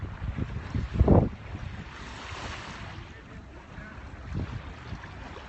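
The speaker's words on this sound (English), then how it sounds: "many people would rather just listen to the crashing of the waves rather than my rambling" Waves surging at Waikiki Beach, a soft, fairly distant wash with one stronger near burst early on and a gentle rolling hiss afterward, under light wind and faint background voices.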